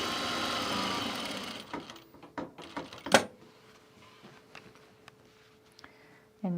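Sewing machine stitching around the perimeter of a garment duffle bag with many layers, a short burst of machine running at first, then scattered clicks, thumps and handling knocks with a faint hum underneath.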